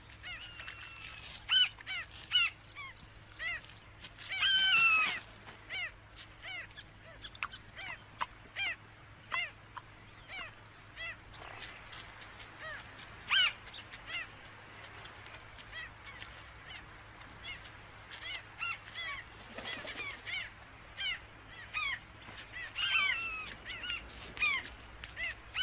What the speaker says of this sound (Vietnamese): Những con kênh cạn khô mang lại bữa tiệc thịnh soạn cho các loài chim đói ăn.